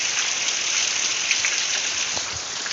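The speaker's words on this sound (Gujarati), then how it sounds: "હજી વરસાદ ચાલુ છે. જોરદાર વરસાદ પડે." Heavy rain pours steadily over farm fields, a dense, continuous hiss with no gaps, close and loud throughout, with a few faint lower patters underneath and no voices.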